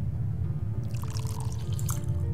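Water being poured in a video game puzzle, a light trickling and splashing over a steady low background hum, with no talk over it.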